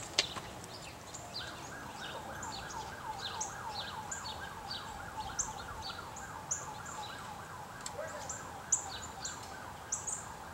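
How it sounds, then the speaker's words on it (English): A distant siren wails faintly in the background of a snowy winter scene near freshly filled bird feeders, its repeated rising and falling tone running steadily throughout while small birds chirp and call intermittently over it. "a little bit of noise from a siren in the background"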